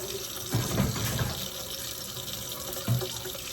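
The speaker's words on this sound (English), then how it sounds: "Some cold water on your tap." Cold water runs steadily from a tap with a broad, even rush, and a couple of brief louder splashes as homemade butter is rinsed under the stream.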